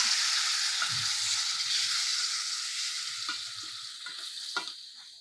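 Loud, continuous hiss of tamarind juice sizzling in hot tempering oil, gradually settling down, with faint clinks of a utensil against the pan.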